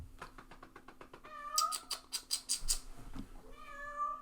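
A house cat meows from a hallway, a run of several short, fairly close meows in quick succession, clear and loud against a quiet room with a faint steady hum.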